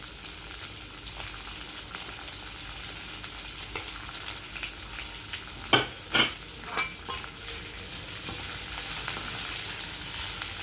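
Sliced onions and green chillies fry in a little oil for chilli chicken, giving a steady soft sizzle. A few sharp spatula scrapes and knocks against the pan stand out near the end.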